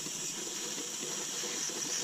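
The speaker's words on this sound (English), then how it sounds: "Air hose right into here with brake parts cleaner" Air hose forcing brake parts cleaner through a radiator fitting during a Nissan Versa Note CVT transmission swap, a steady close hiss of spraying air and fluid throughout, no talking.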